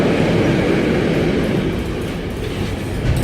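A freight train hauling container wagons passes close by, a loud continuous rolling rumble with faint clickety-clack of wheels on the rails.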